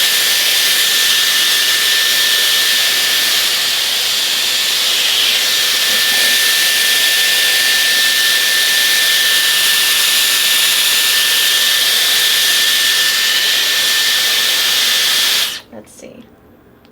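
A Dyson Airwrap hair styler blows a loud, steady rushing whoosh of air while styling dry hair, holding constant for about fifteen seconds before cutting off abruptly.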